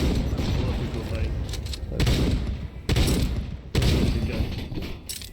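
Repeated loud shotgun blasts and heavy booms from a first-person shooter video game fill the clip, dense and continuous, with players talking over the gunfire.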